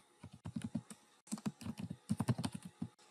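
Rapid bursts of keystrokes on a computer keyboard as code is typed, close and clear, in quick clusters separated by brief pauses, with no voice.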